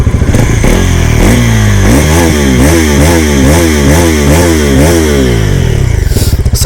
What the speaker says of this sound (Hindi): तो सबसे पहले आप एक बार एग्जॉस्ट मोड सुनो, फिर उसके बाद बात करते हैं।